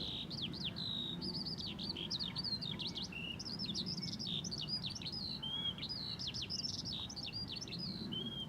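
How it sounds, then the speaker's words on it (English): A skylark sings on and on in open countryside, rapid high chirping trills and warbles above a soft, steady low wind rumble, fairly distant and with no voices. "You probably can't see that skylark"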